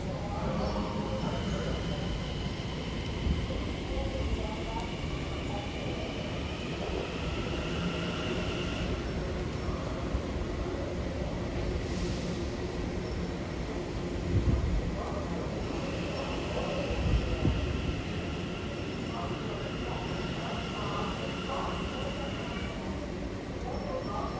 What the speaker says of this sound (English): the empty train is leaving first